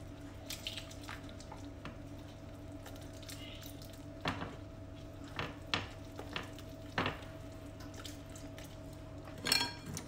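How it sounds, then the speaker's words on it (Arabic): Waffle batter with melted butter is whisked in a bowl while milk is added gradually, giving quiet, scattered clicks and taps at uneven intervals over a steady low background hum. "الزبدة المذابة، وغادي نبداو نخلطو وحنا كنضيفو الحليب شوية بشوية"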